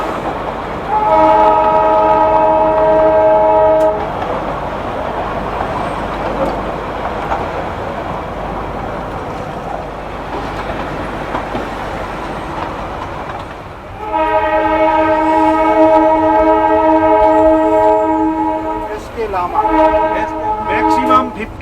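The Darjeeling toy train sounds its horn in two long, loud blasts separated by a rumbling stretch of wheels on track, the second blast ending in a wavering tail close by.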